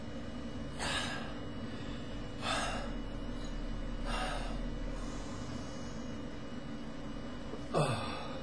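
Heavy panting after a workout: a few sharp, breathy gasps spaced a couple of seconds apart over a quiet hum, close to the microphone, with one final harsher exhale.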